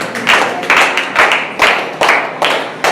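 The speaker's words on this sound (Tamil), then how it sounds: "கைத்தட்டி ஒரு ஆமென் சொல்லுங்க." A church congregation claps hands together in a loud, regular rhythm of about eight sharp beats, with no voices.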